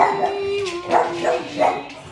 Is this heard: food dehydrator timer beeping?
no